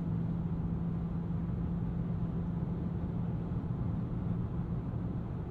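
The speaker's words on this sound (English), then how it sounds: "the wind noise is there, but it's respectably dulled inside the cabin for this price point" Cabin noise inside a Ford Maverick Tremor pickup at speed: a steady, muted rumble of wind and road, low and even throughout, with no voices.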